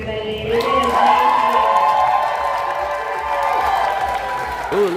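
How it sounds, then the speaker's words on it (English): A festival crowd at a horror fest's zombie pinup pageant lets out a sustained loud scream and cheer, a dense wall of many voices holding for several seconds before tapering. "let's hear that scream, everybody"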